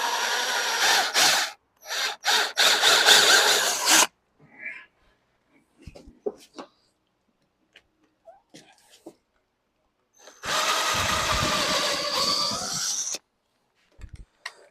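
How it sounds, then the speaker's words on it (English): A power drill with a 3mm bit whirs in two loud bursts at close range while building a sleeping platform in a Honda CR-V, separated by quiet handling noises, clicks and small rustles. "Okay, so that's the 3mm drill bit,"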